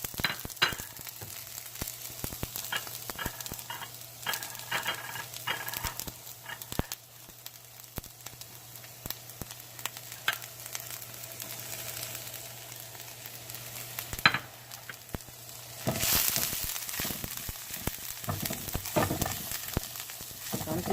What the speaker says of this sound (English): And I'm going to put the green onion and garlic in here and saute it.